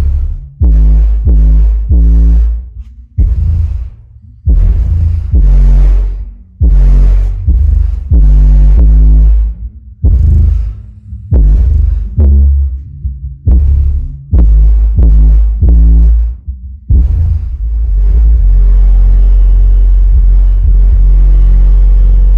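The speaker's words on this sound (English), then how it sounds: "yes, there is a lot of stuff rattling in the background." Car audio subwoofers driven by a Deaf Bonce AAK-4000.1D amplifier pound heavy bass in loud rhythmic thumps, with loose objects rattling and buzzing along, ending in a sustained rumble.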